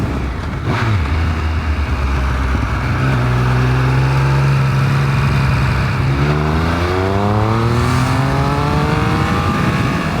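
A Triumph Speed Triple 1200 RS motorcycle with its stock exhaust pulls hard, its loud, steady engine note climbing and falling in pitch through rising revs while the bike accelerates, with no talking.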